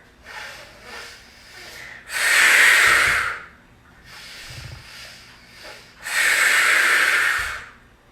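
Pilates breathing: two strong, forceful exhales through the mouth, each lasting about a second, separated by softer inhales and quieter breaths, close and clear with no talk.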